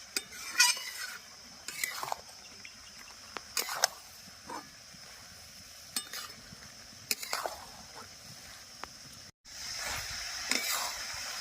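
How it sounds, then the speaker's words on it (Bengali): A curry of fried potatoes, eggplant and telakucha greens is stir-fried in a pan. Spatula scrapes and metal clinks come in short, irregular bursts over a faint, quiet sizzle, with a brief dropout near the end. "ভেজে রাখা আলু বেগুন দিয়ে তরকারিটা ভালো করে কষে নিয়েছি"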